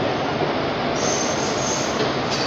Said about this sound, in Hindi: और अपनी ट्रेन आ चुकी है भागलपुर के प्लेटफॉर्म नंबर 4 पे।